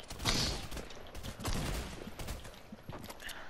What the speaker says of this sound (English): Oh look, someone's shooting at me.